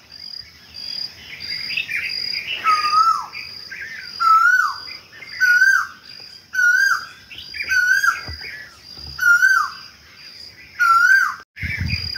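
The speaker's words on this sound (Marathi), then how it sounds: "आणि हा कोकिळ आहे ना कंटिन्युअसली दिवसभर ओरडत असतो." Asian koel calling in the early morning, repeated rising whistled notes at a steady pace, fairly close and loud, over a constant shrill layer of crickets and other faint birdsong.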